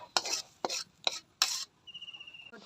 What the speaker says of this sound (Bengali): এখন হচ্ছে বেড়ে ফেলবো বাটিতে।